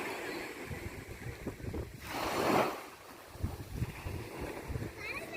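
Sea waves wash onto a beach where boats are tied with rope to the shore, a steady surf wash with one louder swell breaking midway, mixed with wind noise on the microphone.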